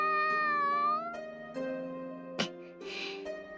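A cartoon cat in an anime meows several times, drawn-out plaintive cries close and clear, with a short sharp sound partway through and no talk over it.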